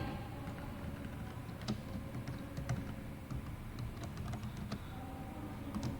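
Steady, close typing on a computer keyboard during a computer class, with many quick irregular key clicks running throughout over a low background hum and no talking.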